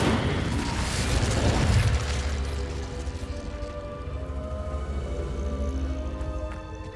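A fire spell explodes in Hogwarts Legacy, a loud roaring burst in the first two seconds that settles into a lingering crackling rumble with a steady hum underneath.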